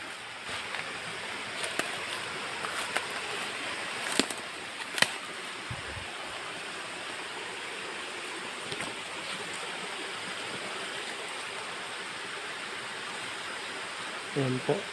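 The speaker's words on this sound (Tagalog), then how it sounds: "Malakas pang agos ng tubig dito" A strong current of water rushes at a small mountain swimming pool with a slide, a steady low-level wash with a few faint knocks.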